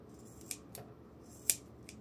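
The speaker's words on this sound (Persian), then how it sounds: "1 سانت از لبه نازک شده رو نگه میداریم و مابقیش رو قیچی میکنیم" Scissors snipping cord while sewing a laundry basket lid, a few sharp isolated clicks close by in a quiet room.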